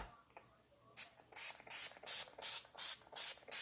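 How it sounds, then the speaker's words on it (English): Makeup setting spray misted from a pump bottle onto a face, about seven sharp, loud hissing bursts in a quick steady rhythm, close to the microphone, with no talking. "Ooh, that's some setting spray."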